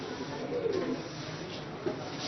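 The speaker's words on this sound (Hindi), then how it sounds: "ये जो आप सामने देख रहे हैं, सारे अली वाले कबूतर हैं।" Ali wale pigeons coo softly from inside their cage, a low, faint burbling over a steady background hum.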